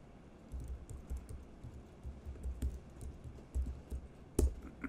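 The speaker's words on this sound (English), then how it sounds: "So let me just type that in." Someone types on a computer keyboard at a Docker workshop, a run of soft, irregular key clicks and taps, fairly quiet and close, with no talk over it.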